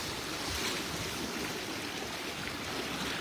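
Strong river current rushing, a dense, continuous broadband wash of flowing water heard up close and steady throughout.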